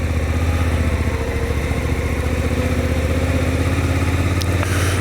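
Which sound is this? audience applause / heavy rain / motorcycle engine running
motorcycle engine running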